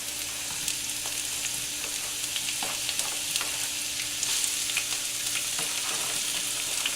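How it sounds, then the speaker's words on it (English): Peppers sizzling in a hot pan for a western omelette, a continuous crackling fry with scattered pops and stirring sounds, close and steady, no voices. "we want to saute our vegetables. So I'm going to put the peppers in."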